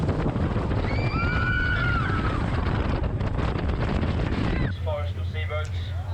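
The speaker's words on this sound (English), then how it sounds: "This is a thrilling experience by jet boat in Shotover River" A powerful jet boat engine roars steadily with rushing wind and water on the Shotover River in New Zealand, while a voice talks over the noise; the roar cuts to a lower rumble near the end.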